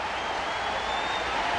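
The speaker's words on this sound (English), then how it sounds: "This crowd is standing. This crowd is wild." A 1987 baseball stadium crowd roars in a steady, dense wash of cheering and applause, loud and continuous throughout, with no single voice rising above it.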